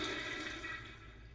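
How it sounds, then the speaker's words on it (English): A toilet flushes in a bathroom, a loud steady rush of water that begins at full strength and slowly tapers off over a second or so, with no voices. "make sure you flush the toilet afterwards"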